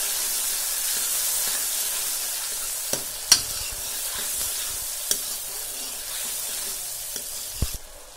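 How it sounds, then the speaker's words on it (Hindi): Tomatoes and green chillies stirred into a frying gravy give a continuous hiss and sizzle, broken by a few sharp scrapes of the spoon against the pan. "टमाटर डाल दिए मैंने, हरी मिर्च डाल दिए हैं, अब इसको मिक्स करेंगे लगातार"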